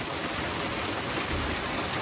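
Heavy rain with big fat drops falling outdoors while a car restoration project sits paused, a steady, dense wash of patter that fills the whole stretch with no voices.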